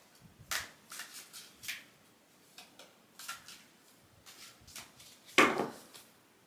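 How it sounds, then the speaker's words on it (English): Oracle cards are shuffled by hand in a quiet room, a series of crisp riffling and slapping bursts, close and irregular, with short pauses between the shuffles. "I'm not going to stop shuffling until I feel like it's okay"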